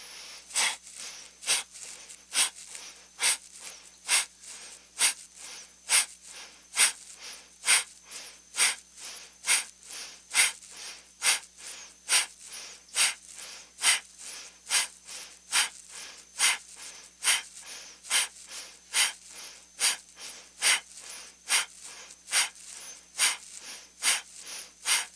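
Breath of fire yoga breathing comes as rapid, rhythmic, forceful nasal exhalations, dozens of short puffs at a steady pace, close and fairly quiet, with no talking.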